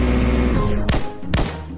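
Rapid bursts of video game gunfire crackle loudly over a dense, busy game soundtrack, with two sharp blasts standing out.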